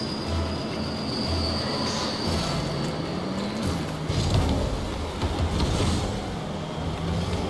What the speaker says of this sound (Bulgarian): Колко горе тия влакове направо ме стресират.